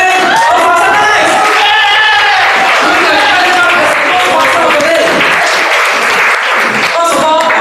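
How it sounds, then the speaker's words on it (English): Audience at a Toastmasters contest applauds the Toastmaster of the day, dense sustained clapping from a crowded room with voices and cheers mixed in throughout. "Can we please give a big applause to our Toastmaster of the day today?"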